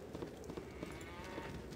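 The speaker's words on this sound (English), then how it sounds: "I heard a cow." A cow moos faintly and briefly within a video game's ambient soundscape, somewhat distant, with no talk.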